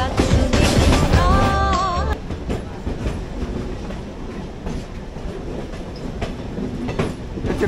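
A DMU passenger local train on a Siliguri to Lataguri run rolls along the rails with a loud, close rumble and a brief squeal early on, then a steadier clatter with rhythmic clicks.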